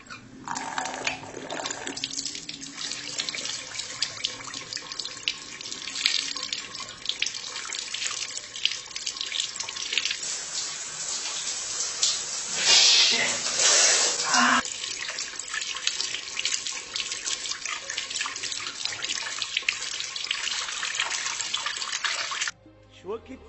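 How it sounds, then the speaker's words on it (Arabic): Running water pours steadily from a kitchen tap as tomatoes are rinsed under it, a loud continuous splashing that cuts off abruptly near the end, with someone speaking briefly over it. "خل اغسل هاي الطماطيه"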